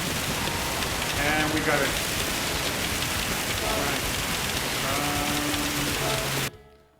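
Heavy rain drums steadily on the track during a car race in Gran Turismo 7, with engine tones rising and falling beneath it, someone speaking briefly, and the sound cutting off abruptly at the end.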